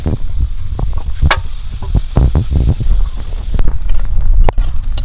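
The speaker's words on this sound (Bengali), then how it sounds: "এদিকে আলুও ভাজা হয়ে গেল" Steady crackling sizzle of potatoes frying in hot oil, with occasional clattering stirs and scrapes over the continuous hiss.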